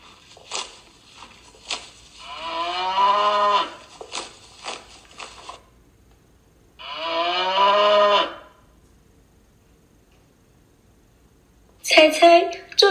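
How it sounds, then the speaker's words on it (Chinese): Dairy cow mooing twice in long, drawn-out calls with a pause between, fairly loud and close, followed by a brief burst of another sound at the end; no speech over the calls. "奶牛。"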